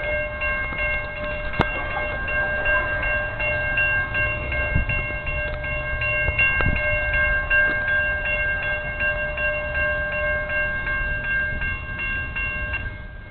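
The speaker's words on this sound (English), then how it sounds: "Yeah, we got a train coming." A short CSX autorack freight train crawls through Fairport, New York, in winter, giving a steady, loud rolling rumble with sustained tonal whining that holds for the whole stretch and no talk over it.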